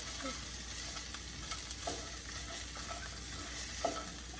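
Onion sizzles softly in a pan of a little oil over very low heat, a steady gentle frying hiss with occasional light stirring scrapes, close and fairly quiet.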